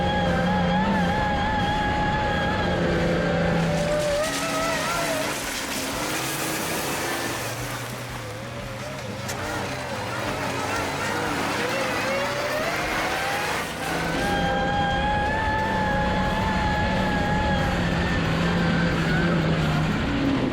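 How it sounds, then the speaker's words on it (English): An off-road vehicle on a mountain switchback trail at Gold Mountain, Big Bear, revs hard and continuously up close, with audible downshifts and throttle surges that rise and fall over about twenty seconds. "coming in hot and downshifting and throttling out is just a blast"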